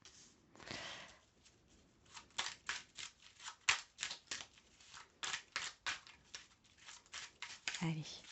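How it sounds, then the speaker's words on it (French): Fortune-telling cards being laid out one by one on a table: a series of soft, crisp slaps and rustles at an uneven rhythm, close and quiet, with faint talk underneath. "Je vais mettre les cartes comme ça."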